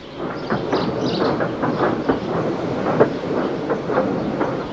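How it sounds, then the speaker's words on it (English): A steam engine pushes a breakdown train along rails, giving a steady rumbling roll with a rhythmic clickety-clack of wheels over rail joints throughout, fairly close and continuous. "Thomas pushed the breakdown train alongside."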